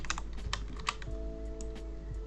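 Keyboard shortcuts typed on a computer keyboard while modeling a game asset: a quick run of close, crisp key clicks, denser at first and then sparser, over a steady low hum.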